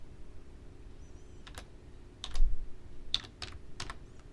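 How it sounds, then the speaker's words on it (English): A computer keyboard is tapped in a short run of light clicks for typing a search term, sparse and close, over faint room hum. "we're going to type in PowerShell"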